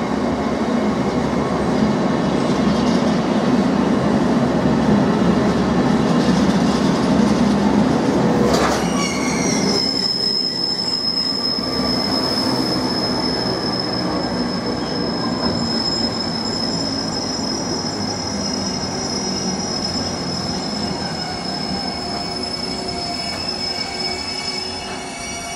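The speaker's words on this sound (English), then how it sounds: "is coming to a stop in platform 2, hauling an intermodal, heading to the Port of Felixstowe" A freight train hauling intermodal containers slows to a stop at a station platform, a loud steady rumble joined midway by a sharp, sustained high wheel squeal that rings on to the end.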